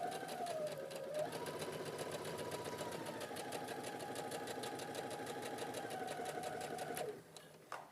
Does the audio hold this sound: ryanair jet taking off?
no